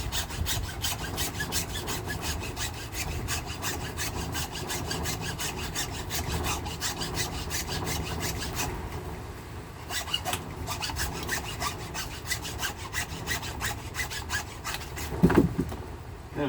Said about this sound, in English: We'll get the hacksaw. I'll just cut that off there.